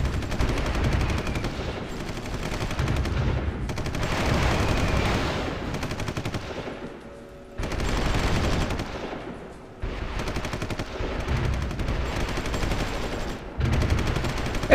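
Sustained bursts of automatic gunfire from units in the strategy game Supreme Ruler Ultimate, loud and continuous with brief pauses between volleys, dense rattling shots layered over low rumble, no talk.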